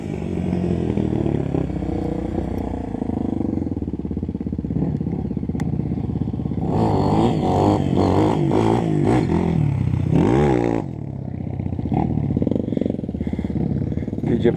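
A Honda CRF 230 dirt bike spinning a donut on a muddy trail, its engine droning close by, then revving hard in loud bursts with scraping and clattering.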